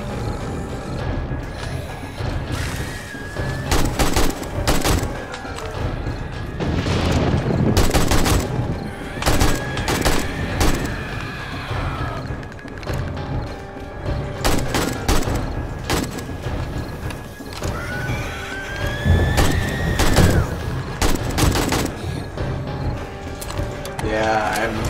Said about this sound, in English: Being very careful with my shooting.